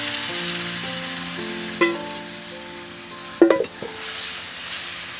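Boiled peas and their cooking water added to fried ghugni masala in a kadai, sizzling steadily with a couple of sharp clanks and splashes of the pot and spoon partway through.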